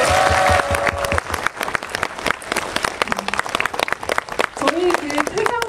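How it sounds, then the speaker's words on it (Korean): Audience applause at the end of a film screening Q&A in a cinema: clapping from a crowd runs throughout, with talking and music-like tones mixed in, fairly loud and irregular. "박수 부탁드릴게요."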